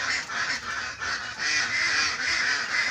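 Pet ducks and chickens, big grown birds, honk and quack loudly and nearly nonstop in rough repeated bursts, close up, with no talking over them.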